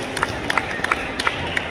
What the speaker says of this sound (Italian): Facciamo un applauso a questi bambini che sono stati bravissimi!